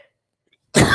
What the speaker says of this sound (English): And cough hits you, it hits you.